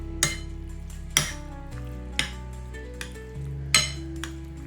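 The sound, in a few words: mixing chicken with the marinade ingredients for tacos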